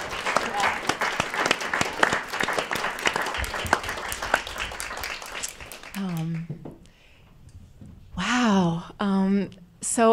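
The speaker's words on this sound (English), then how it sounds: "this really felt like an ending that maybe deserves a quick round of applause to thank you" A brief round of audience applause at a piano recital in a small hall rattles on for about six seconds, then gives way to someone talking.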